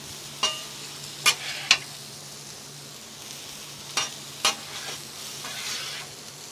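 Onions sizzling in a frying pan under a soft steady hiss, punctuated by a handful of sharp metallic clacks from stirring, close and fairly quiet with no talk.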